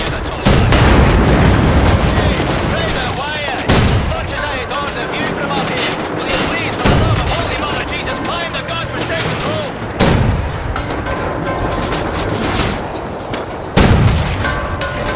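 Dense, loud gunfire from the first-person shooter Wolfenstein: The New Order, with repeated shots and bursts plus heavier booms spiking every few seconds throughout a chaotic firefight.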